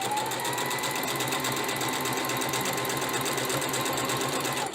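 A sewing machine stitches a fabric wristlet, a close, fast, even mechanical whir with rapid needle clatter running steadily throughout.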